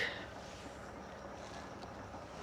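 Steady wind rushes across the microphone as a constant broadband roar at an inland resort in Tagum City, Philippines, with no clear voices.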